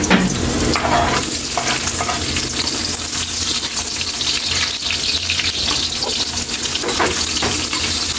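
Garlic, ginger and onion sauté in a pan for squid adobo, giving a loud, steady sizzle with stirring and scraping that runs without a break and with no talk.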